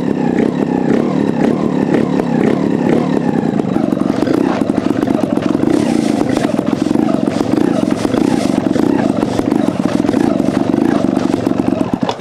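A trials motorcycle engine runs loud and close throughout, with steady rumbling, occasional revs and mechanical clatter as the bike is shifted and maneuvered.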